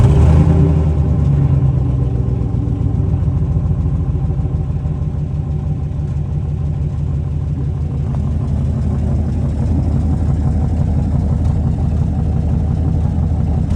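A truck engine runs continuously at a steady idle, loud and close, with a constant low rumble and no talk. The truck has a suspected PCV valve problem.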